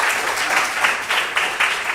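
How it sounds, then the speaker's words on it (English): An audience at a hospital quality-week exhibition of best practices breaks into steady, loud applause, many hands clapping together for the whole stretch with no talk over it. "I think we deserve a louder clap"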